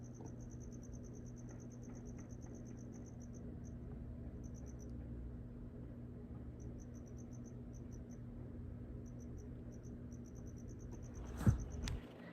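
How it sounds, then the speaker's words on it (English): Crickets chirp in rapid repeating pulses against a quiet outdoor night background, with a brief louder knock near the end. "There's lizards running around because they hear these crickets, just like I do."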